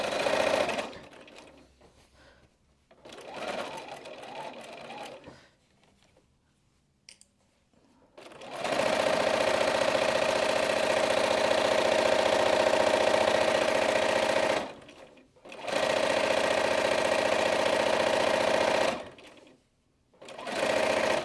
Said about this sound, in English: Lift your presser foot and then put your needle down right where you had that line.